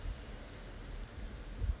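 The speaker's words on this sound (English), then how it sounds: "oh it's raining" Rain falls outdoors in a steady, soft, low rumbling wash of noise, faint and continuous, heard alone without any voices.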